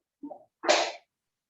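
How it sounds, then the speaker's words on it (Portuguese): A single person sneezes close by, a short intake followed by one sharp explosive burst, then silence. "De manhã eu acordo numa espirração que eu não sei por quê."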